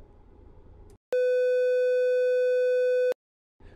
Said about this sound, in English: So the triangle wave is much softer